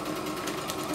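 A CNY E960 multifunction embroidery sewing machine stitching a buttonhole, a fast steady mechanical whir with a rapid needle rhythm, close and continuous through the short stretch.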